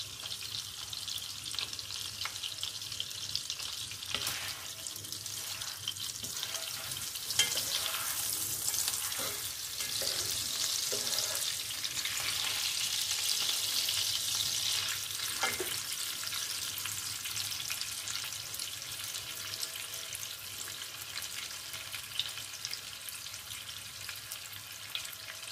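Garlic-seasoned meat roll sizzles and fries steadily in a pan, with scraping and stirring sounds as it is turned, a continuous close crackle throughout.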